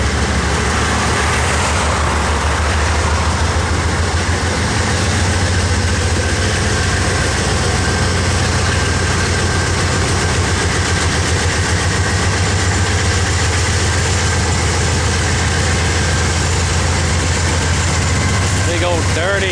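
CSX freight train locomotive engine working at Pinoca Yard, a loud, steady low diesel drone holding throughout, close and continuous with a slight rise in intensity near the end.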